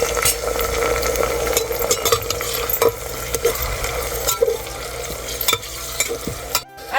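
Onions and tomatoes fry for dal khichdi, a loud continuous sizzle in a pan broken by repeated spoon scrapes and clinks as the mixture is stirred, with no voices.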